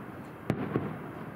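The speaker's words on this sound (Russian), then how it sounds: "Ой, какие красивые салюты." Fireworks in the night sky over Smolensk: two sharp bursts about a quarter second apart crack out from a murky outdoor hum, then fade.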